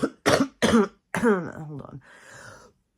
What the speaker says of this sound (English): This cough is wicked,